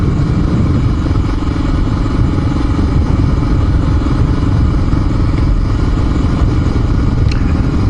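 A Honda XR400R dirt bike rides a winding road with loose gravel on the corners, Old Dial Road near Morganton in North Georgia. Its loud, constant close-up engine drone mixes with wind rush and faint clatter throughout.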